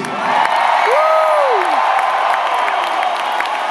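A large concert crowd at a show in Dallas cheers loudly for the crew, a steady roar with whoops and whistles rising through it.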